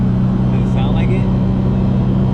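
A turbocharged Nissan 370Z engine hums and rumbles steadily while driving, a continuous low drone with road noise throughout.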